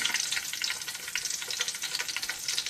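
Whole spices such as bay leaf, cinnamon, star anise, cardamom and cloves frying in hot oil for chicken biryani, a steady close crackling sizzle with no talk.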